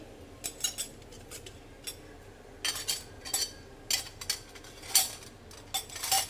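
A metal sev press for making chickpea-flour sev is handled and closed, giving a series of light metallic clinks and scrapes in irregular clusters, quiet and close, with no talking.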